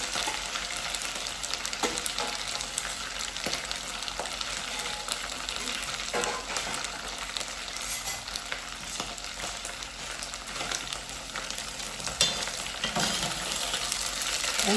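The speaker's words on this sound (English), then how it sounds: "So I have to deep fry." Food deep fries in hot oil in an outdoor cooking setting, a steady crackling sizzle with scattered pops continuing evenly for the whole stretch, moderately loud and without talk.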